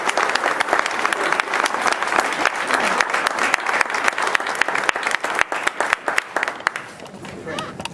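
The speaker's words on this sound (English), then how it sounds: "please give a warm round of applause for your 2018 Drive chairs" A conference audience at a 2018 campaign kickoff breaks into sustained, loud applause for the drive chairs, dense clapping filling the room steadily before tapering slightly near the end.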